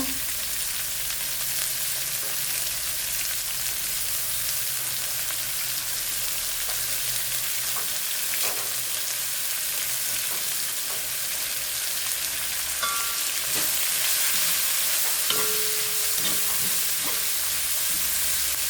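Garlic and curry leaves fry in a pan with a steady, loud hiss and crackle, stirred now and then, continuing without talk.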